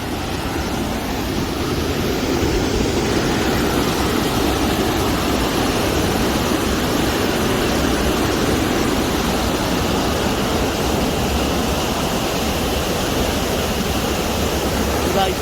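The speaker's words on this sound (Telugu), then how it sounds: "వాటర్ సౌండ్ వినబడుతుంది కదా." Water at Pakhala Lake rushes loudly and continuously, a steady broadband roar like water released over a spillway, close and unbroken throughout.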